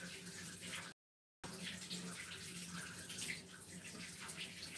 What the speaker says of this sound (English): Covering the red cabbage with warm water.